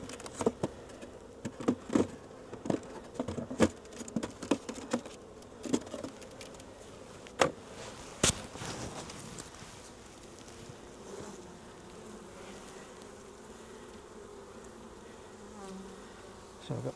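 Honey bees drone steadily around an opened hive during an inspection, with a continuous close buzz and scattered sharp taps and knocks of frames and tools in the first half.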